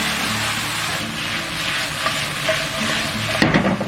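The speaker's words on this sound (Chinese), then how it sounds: "再下入洋葱跟这个芹菜，然后我们开大火给它猛炒个半分钟" Beef stir-fried hard over high heat with onion and celery in a wok, a loud continuous roaring sizzle with bursts of tossing and scraping near the end, no talk.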